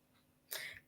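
A single sharp sneeze, loud and close, bursts out abruptly after a moment of quiet and trails off within a fraction of a second.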